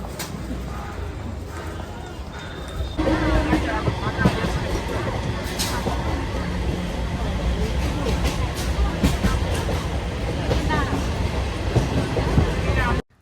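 Continuous rumbling rattle of a train rolling along rails, loud and close, with faint chatter and a bird or two in the background.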